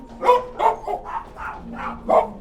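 Several dogs barking at an animal shelter in South Texas, a run of about seven loud, close barks and yips at a steady pace, with a faint whine in between and no talking.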